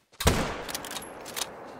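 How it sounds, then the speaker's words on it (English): A single sharp rifle shot in theHunter: Call of the Wild, fired at a wild cat, cracks loudly up close and then trails off into a rolling echo that fades over about a second and a half. "I shot him in the back."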